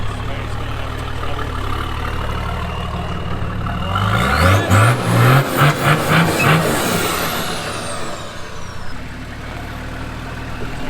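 A 4WD vehicle's engine revs hard off-road as a wheel spins in a rut, rising to a loud pulsing roar in the middle before easing back to a steady rumble.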